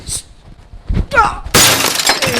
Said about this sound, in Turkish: Eyvah cam kırıldı kaç abi.